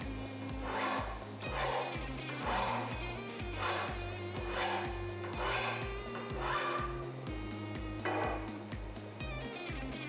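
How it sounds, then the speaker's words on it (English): A file rasps in steady, repeated strokes along aluminum edges to chamfer them for brazing, each pass an even scraping swell, with a low hum underneath throughout. "Use a file to put a chamfer on all the edges that you plan on brazing"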